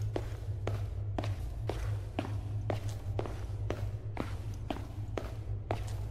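Footsteps in the horror game Slender: The Arrival, a steady walking rhythm of about two steps per second sounding close and fairly loud over a constant low droning ambience, with no talking.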